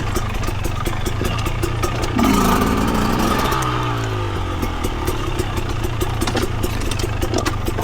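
A 2025 KTM 300 dirt bike engine runs during a trail ride, a loud continuous buzzing drone with rattling clatter and rising revs as the rider accelerates.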